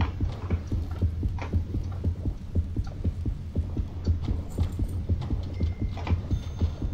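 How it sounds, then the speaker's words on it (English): A steady, throbbing heartbeat thumps in regular pairs over a low hum, warning that a shark is nearby in the underwater video game Depth. "As you can hear the heartbeat, that means a shark's nearby."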